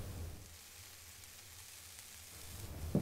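Food sizzles and fries in a pan on the stove, a faint, steady hiss running throughout with a brief clatter near the end.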